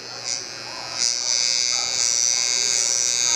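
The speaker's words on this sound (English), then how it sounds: "Take the trimmer, just hover over that part." An electric hair trimmer buzzes steadily during a mid-taper haircut, a close, continuous high whine that swells as the blade touches the hair.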